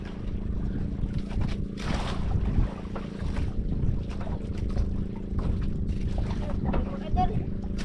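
A small boat on open water produces a low, steady engine drone with wind buffeting the microphone, and voices speak over it at close range.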